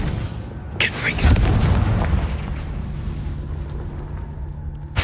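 A Confringo blasting curse in the Hogwarts Legacy video game sets off a sudden loud boom with a deep rumbling tail that fades over several seconds, then a sharp burst cuts in at the very end.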